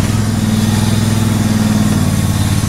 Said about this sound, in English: No, right, the mower starts